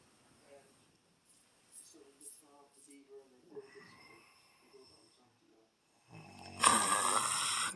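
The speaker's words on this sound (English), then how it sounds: "Boy, you snoring too loud for me." Man snoring loudly, a sequence of rough rasping breaths rising and falling at a slow rhythm, fairly faint at first, followed by a burst of loud hissing noise at the end.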